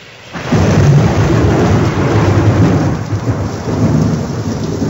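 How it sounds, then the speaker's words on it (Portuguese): Heavy rain pours in a dense, loud roar over Rome as a radio-drama storm effect, with rumbling thunder rolling underneath, starting abruptly after a brief quiet moment and continuing steadily without speech. "A chuva fica ainda mais pesada em Roma."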